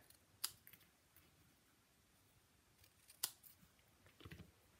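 Scissors cutting card paper for leaves on a handmade Christmas card, two sharp close snips a few seconds apart followed by faint rustling, quiet and without talk.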